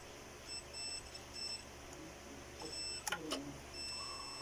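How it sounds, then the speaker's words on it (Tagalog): A multimeter's continuity test gives short high-pitched electronic beeps repeating in a quick series over faint background hum, followed by a couple of brief clicks, while probing a welding inverter with a shorted IGBT. "Nalipat tayo ng continuity beep."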